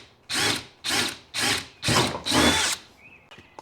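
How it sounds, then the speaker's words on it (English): Five short bursts of drilling straight down while mounting a trolling motor on a Lifetime Manta fishing kayak, each a harsh, grinding whir, close and fairly loud, then a brief high squeak and faint clatter. "we're going to drill straight down"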